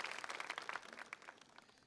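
A church congregation applauds after a sermon, a dense, soft patter of many hands clapping together in a quiet wash that holds briefly and fades.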